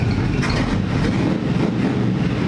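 A NASCAR engine with a 23-year-old ignition runs after an ignition coil swap, giving a loud, dense, rumbling drone that holds steady throughout with no speech.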